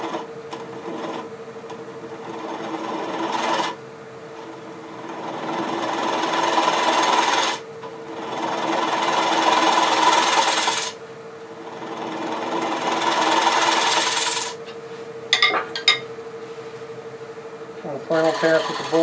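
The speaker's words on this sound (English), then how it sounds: "Final pass with the bowl gouge." Bradford pear bowl spinning on a wood lathe while a bowl gouge cuts, a steady whirring scrape in several long passes broken by short pauses, with a steady motor hum underneath.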